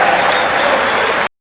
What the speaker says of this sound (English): You can hear them starting to clap.